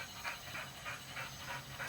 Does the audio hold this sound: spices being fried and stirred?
no